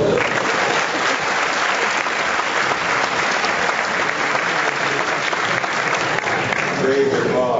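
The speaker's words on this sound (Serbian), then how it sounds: "Ajmo aplauz Južna Srbija." An audience at a defence minister's lecture at a military academy breaks into loud, sustained applause, with dense steady clapping that holds throughout.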